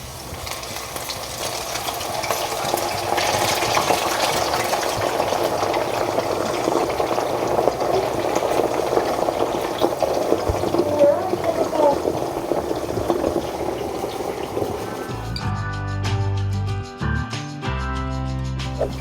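Pork belly fries in avocado oil over medium-low heat with a dense, bubbling sizzle that holds steady and fairly loud for about fifteen seconds, after which it gives way to music.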